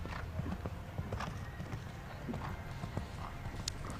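Hooves clip-clop faintly across a show jumping arena during a 1.45m speed class, a steady muffled rhythm under a distant, noisy background with a brief whinny.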